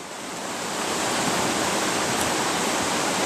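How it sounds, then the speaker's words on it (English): Rushing river current at a gold panning spot in the Green Mountains, a loud, steady broadband roar of water that swells in the first second and then holds constant, with no voices. "the vast majority of the current's coming through there"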